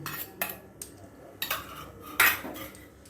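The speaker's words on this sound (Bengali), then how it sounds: "দিয়ে এটাকে আমি একটু নাড়িয়ে দেব।" Metal spoon stirring prepared coconut filling into milk in a pot, a series of sharp clinks and scrapes against the pot at irregular intervals, loud and close with no talking.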